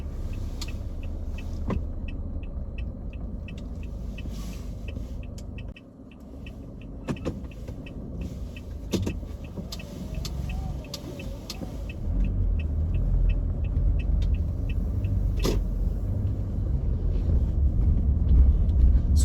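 Car interior during a three-point turn on a G2 road test route in Toronto, with a steady low engine and road rumble, a few light clicks, and the drone growing heavier as the car pulls away.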